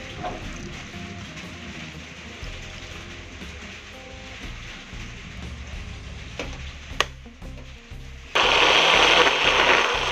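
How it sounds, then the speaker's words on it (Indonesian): A kitchen blender grinds spice paste with a little water, a steady whirring churn running throughout before the motor jumps to a louder, harsher roar near the end. "Tambahkan sedikit air untuk memblender."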